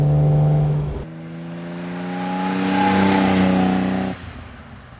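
A 1969 Mercedes 280 SL Pagode with a 170 hp engine and four-speed manual accelerates uphill, its engine note loud and close, with a brief shift dip partway through before the revs climb again and fall away.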